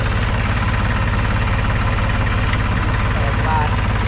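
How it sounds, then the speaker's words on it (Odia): A tractor engine idles loud and close, with a steady low throbbing pulse and a constant rumble, with no break and no talk over it. "ପ୍ରଥମ ଥର ଟ୍ରାକ୍ଟର ଚଲେଇବି"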